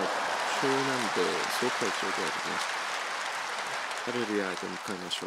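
A church congregation applauds to welcome a missionary to the front, a continuous hissing patter of many hands that carries on beneath someone speaking in bursts.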